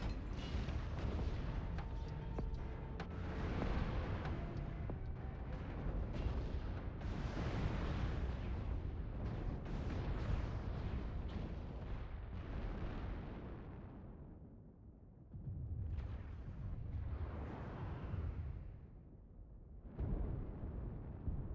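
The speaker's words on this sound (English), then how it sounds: "Warning, incoming missile." Incoming missiles in MechWarrior Online hit in a long run of heavy, rumbling explosions that overlap almost continuously, briefly fading around the middle before fresh blasts resume, with no talk over them.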